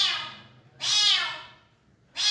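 A rescued kitten meows three times at close range, each call loud, high and falling in pitch, with short quiet gaps between them and no talking.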